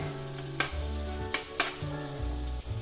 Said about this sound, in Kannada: ಬೆಳ್ಳುಳ್ಳಿ ನೀಟಾಗಿ ಫ್ರೈ ಆಗಬೇಕು